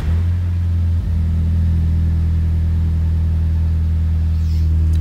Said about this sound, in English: a cold startup of a 2007 Audi TT with an exhaust mod